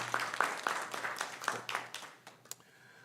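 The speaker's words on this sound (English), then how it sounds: "Can we give her another round of applause?" Scattered clapping from an audience at a school board of education meeting, a small group giving a brief round that thins out and trails off into a few last claps over about three seconds.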